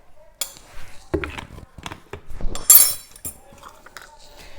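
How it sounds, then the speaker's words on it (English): A spoon stirs a white vinegar mixture for cleaning pots, making sharp metallic clinks and scrapes in uneven bursts, close up against a quiet background. "And then we're gonna keep stirring. We're gonna mix that very well."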